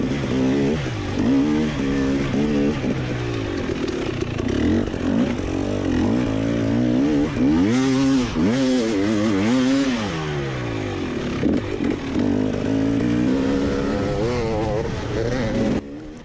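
Hard enduro dirt bikes at the Last Dog Standing LD2 2021 race rev and rise and fall in pitch as they climb, a sustained two-stroke wail with sharp throttle swoops near the middle, fairly close.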